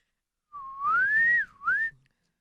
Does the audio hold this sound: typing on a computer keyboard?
no